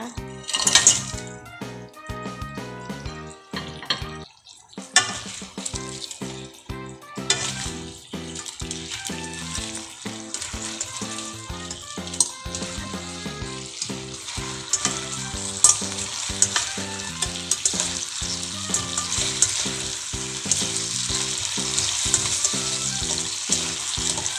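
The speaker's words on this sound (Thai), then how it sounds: "ปลาดุกทอดนะคะ ที่เราทอดทิ้งไว้นะคะ เราจะนำลงไปผัดเลยนะคะ" Pre-fried crispy catfish stir-fried in a pan for a spicy Thai stir-fry, with loud continuous sizzling and repeated clattering of a utensil against the pan, briefly pausing early before resuming busily.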